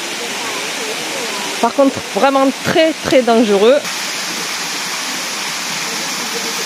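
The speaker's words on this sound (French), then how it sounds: "la cascade se poursuit de ce côté-ci" Jungle waterfall on Koh Samui cascading in a constant loud roar that fills the whole stretch, with someone speaking briefly over it in the middle.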